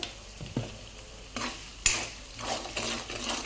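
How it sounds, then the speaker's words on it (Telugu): Tomato egg curry being stirred in a pan after chilli powder and salt go in, a utensil scraping and tapping the pan in several separate strokes over a soft, steady sizzle, with no talk. "ఇదంతా ఒకసారి కలుపుకొని కారం మాడిపోకముందే టమోటాలు అయితే వేసేసుకోవాలి."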